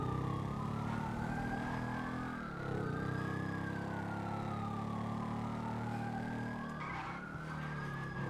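Police sirens wail in the GTA 5 video game during a roleplay chase, a continuous rising and falling siren sweep over a low rumbling engine drone, fairly loud and steady with no talking.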